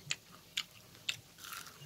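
Three crisp, evenly spaced bites into crunchy fried combro, followed by a burst of close chewing.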